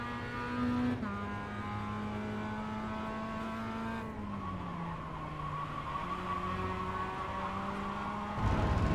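A Mazda MX5 race car in the iRacing sim at Winton Raceway hums with a steady engine drone that shifts pitch as it slows through corners and climbs again, ending with a louder burst of noise.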